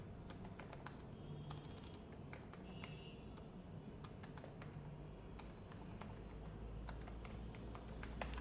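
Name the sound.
typing on a computer keyboard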